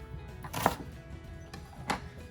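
Knife roughly chopping an onion on a board for falafel, two distinct chops about a second apart over quiet kitchen background.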